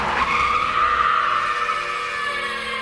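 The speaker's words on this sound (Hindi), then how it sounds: "थोड़ी दूर जाने के बाद गुल्ली बुल्ली को बाबा की गाड़ी का एक्सीडेंट हुआ मिलता है।" Sound effect of a car skidding in an accident: a loud, sustained tire screech that fades slowly after a sharp start.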